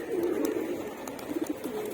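Pigeons coo in soft, throaty rolling calls inside a sky pigeon loft, close and steady for a couple of seconds with light rustling behind.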